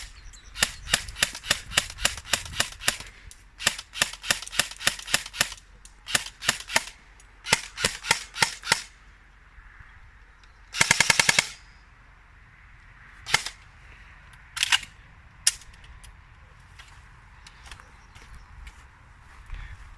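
A Specna Arms SA.K02 airsoft replica fires several rapid bursts of sharp cracking shots, followed by a few isolated single shots and a short fast volley. The shots are close and loud against quiet surroundings.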